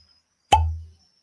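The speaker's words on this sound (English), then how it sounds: "Look at that beautiful cork sound" A cork is pulled from a whiskey bottle, making a single close, sharp pop with a brief hollow resonant tail that fades within half a second, with silence before and after.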